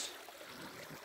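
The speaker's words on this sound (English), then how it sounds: "Nice little creek." Small creek trickling and flowing steadily on a forest hike, faint and close, with no voices.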